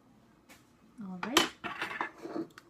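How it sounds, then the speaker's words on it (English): Avocado mashed for guacamole in a home kitchen, with close, wet squishing and scraping of a utensil against a bowl in a few irregular strokes, the loudest about midway through. "And then just give it a nice, good mashing"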